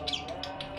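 Blue budgerigars kept for breeding give a quick series of soft, close chirps in under a second, with no talk over them.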